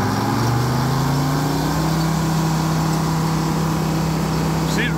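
An engine powering a circle sawmill in Mississippi throttles up, a loud, steady, close drone whose pitch climbs over the first couple of seconds before holding level.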